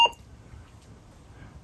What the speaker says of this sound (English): That famous Apple IIe beep.